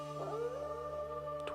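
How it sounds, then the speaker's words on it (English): A wolf howls in the video game Zelda: Twilight Princess, a single sustained, wavering tonal howl over a steady low musical drone, with no talk. "Finish up the intros here with the howling at the"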